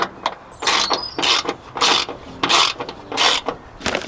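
Ratchet undoing a 10mm bolt on a sensor of a crashed Mazda MX5 NC, heard as repeated bursts of rapid clicking, about seven strokes in a steady back-and-forth rhythm, close and fairly loud with no talking.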